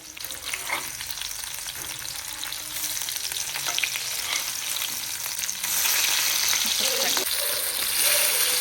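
Fish coated in semolina frying in plenty of oil in a pan, a continuous close crackling sizzle that grows louder partway through, with faint background voices.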